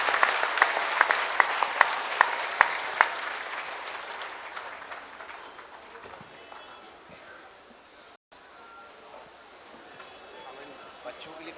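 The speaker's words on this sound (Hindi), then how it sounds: "इसके लिए आप सब मिलकर जोर से तालियों से अभिनंदन करेंगे आज के पावन तट पर" A crowd applauds at the Kumbh festival on the Ganga bank in Haridwar. The clapping starts loud and dense, then fades steadily, with voices talking underneath.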